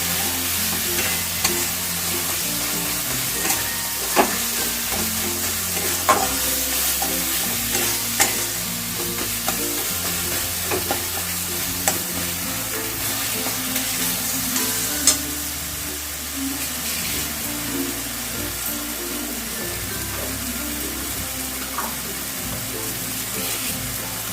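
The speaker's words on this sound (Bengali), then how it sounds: "দিয়ে এই মশলাগুলো একটু ভালো করে কষিয়ে নিলাম" Spices and green chili sizzle over a high gas flame while a spoon stirs and scrapes the pan with irregular clinks, the steady frying hiss carrying on throughout.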